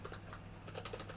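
Computer keyboard typing while editing a Linux configuration file in Vim, a quick run of close, crisp key clicks over a steady low hum, with no voices.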